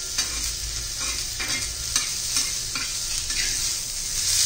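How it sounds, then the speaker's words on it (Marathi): Slightly yellowed raw mango pieces fry in a pan with a steady sizzle. A spoon stirs them in repeated rhythmic scrapes that pulse roughly every half second. "कैरी घातल्यावर जास्त वेळ नाही आपल्याला भाजायचं आहे, एखादा मिनिट भरच।"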